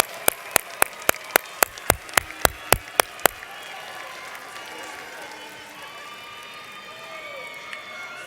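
At a high school graduation, about a dozen crisp, evenly spaced claps ring out close by for three seconds, then give way to a soft, continuous crowd murmur with distant talking.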